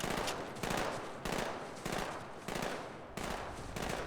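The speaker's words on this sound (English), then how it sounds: "Where am I being shot at?" Enemy gunfire in Halo 2 rattles in repeated bursts of about half a second each, loud and steady with brief gaps, with no talking over it.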